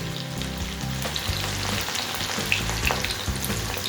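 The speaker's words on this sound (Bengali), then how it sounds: "আমি কর্নগুলোকে দুটো গ্যাসে ভাজবো অল্প অল্প করে।" Corn kernels fry in oil in a pan over a gas flame for crispy corn, crackling and sizzling loudly and steadily up close, with occasional sharper pops.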